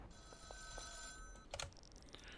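Payphone ringing in the Schedule 1 video game, a quiet electronic ring tone with a few brief chimes and clicks layered over faint background ambience.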